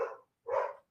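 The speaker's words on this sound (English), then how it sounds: "I apologize for the dog barking" A dog gives two short, fairly loud barks about half a second apart, with silence between them.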